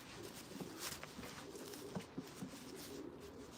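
Soft, low pigeon coos repeat faintly in a quiet space, a few gentle throaty calls spread across the moment.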